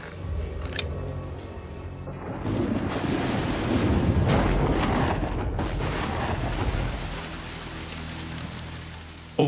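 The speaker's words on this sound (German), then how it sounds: "Es regnet über den ehemaligen Maisfeldern." Steady rain falls in a dense hiss, swelling louder in the middle and easing off toward the end, with no voices.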